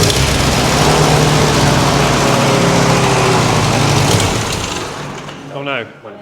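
A WW2 jeep engine cranks and roars loudly and steadily for about four seconds, then fades as a voice speaks near the end.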